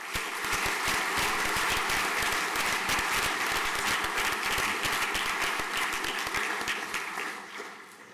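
Steady audience applause at a school prizegiving, a dense wash of many hands clapping that holds for several seconds before tapering off near the end.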